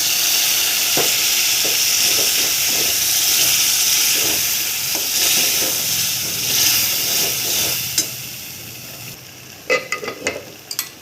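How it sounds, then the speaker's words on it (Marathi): Turmeric and cooked dal going into sizzling vegetables for ambadi bhaji, a loud steady frying hiss broken by stirring knocks, easing at the end into a run of sharp clatters of a spoon against the pan. "आता यामध्ये थोडीशी हळद टाकायची आहे आणि शिजलेली डाळ टाकायची"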